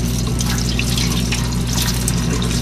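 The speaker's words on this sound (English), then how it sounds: "I am going to pour it into the sink." Water with fine sediment poured steadily into a sink, a continuous close rushing splash that holds even and loud throughout with no pauses.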